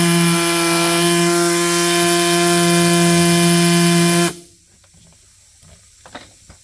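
A power saw cuts out an interior panel with a loud, steady, high-pitched whine for about four seconds, then stops abruptly, leaving faint room noise and a few light knocks.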